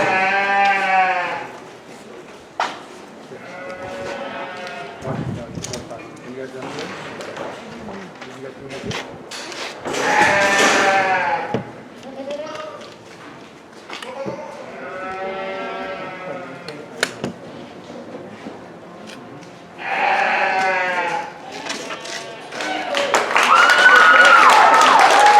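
Sheep bleat loudly and repeatedly in the novice sheep showmanship ring at the 2020 Santa Paula Junior Livestock Show, with an announcer talking between calls and brief clapping near the end.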